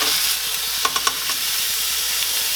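Spiced chicken fajitas being turned with tongs in a hot pan give a dense, steady sizzle and hiss, with a few sharp metallic clicks from the tongs partway through. Close and fairly loud, without speech.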